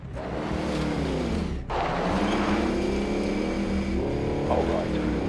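A vehicle drives in the shooter Call of Duty Warzone, a steady engine roar that rises and shifts as it accelerates, with voices talking over it.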